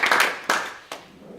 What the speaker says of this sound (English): everyone please give Jan a warm round of applause